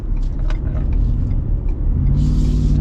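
A 2022 Ford F-150 Super Snake Sport pickup accelerates, its engine a loud low rumble from the cabin that climbs in pitch after a short pause, with a burst of hissy noise near the end.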